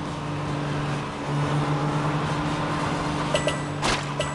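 Cat-Car driven in the PJ Masks: Hero Academy video game, a steady synthetic engine drone with a constant low hum, moderately loud and continuous, with a few brief chime-like effects near the end.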